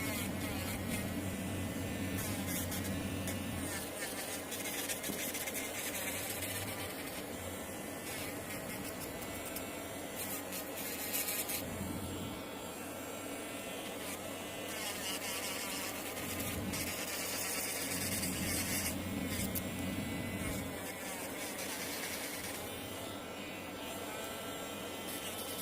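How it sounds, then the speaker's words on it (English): Electric nail file buzzing against acrylic nails during a full set, a high whirring drone that rises and dips in pitch, with short breaks and uneven scraping passages, close and fairly quiet with no talking. "when I'm filing, I do use both the e-file and the hand files."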